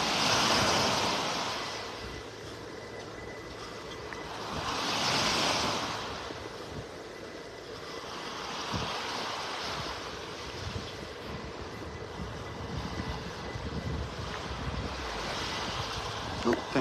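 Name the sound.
ocean waves on a beach in North Naples, Florida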